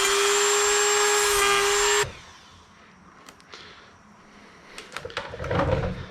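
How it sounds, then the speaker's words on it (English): A Dremel rotary tool cuts into a TSA security lock with a loud, high steady whine for about two seconds, then stops, followed by quieter clicks and handling noises. "I don't have clippers. I do have a Dremel though"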